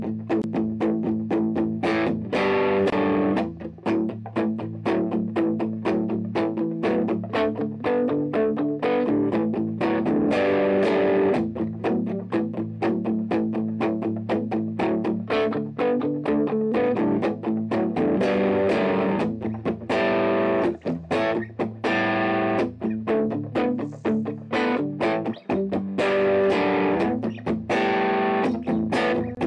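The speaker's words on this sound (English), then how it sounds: "overdriver distortion for that, just because it gets that saturation in a way that the amp saturation doesn't respond" Guitar through a Vox amp with an overdrive distortion pedal, playing a song: steady, driven, saturated strumming with a fuzzy low end. It is loud and continuous for the whole stretch, with no voices.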